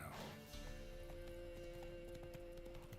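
Horse hooves clip-clop at a steady trot in The Witcher 3: Wild Hunt on PC, close and continuous against game ambience, with a brief whinny-like tone near the start.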